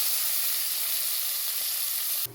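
Steady sizzle of onions sautéing in oil in a pan for mutton biryani, cooked until brown; continuous close frying hiss with faint stirring, ending abruptly.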